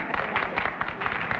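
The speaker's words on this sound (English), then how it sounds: "I don't know what you're applauding." Studio audience at a 1960 television game show applauds, a dense patter of many hands clapping at once, steady and moderately loud for the whole moment, with no distinct voices above it.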